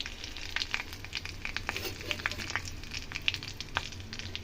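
Whole cumin seeds and two dried red chillies fry in hot mustard oil for a lentil and papaya dal. A steady close sizzle runs throughout, scattered with small crackles and pops, and nobody speaks.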